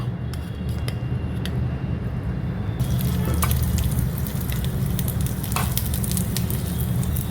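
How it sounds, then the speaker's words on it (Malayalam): Three tablespoons of grated coconut frying in a pan until light brown, giving a continuous close sizzle over a low hum, with occasional spoon scrapes and clicks. "അതിലേക്ക് ഈ 3 ടേബിൾ സ്പൂണ് കോക്കനട്ട്, ഒത്തിരി കറുപ്പിച്ച് കളയൽ, ഒരു ലൈറ്റ് ബ്രൗണും അല്പം കൂടെ ആവുന്നത് വരെ അത് ഫ്രൈ ആക്കി എടുക്കുക"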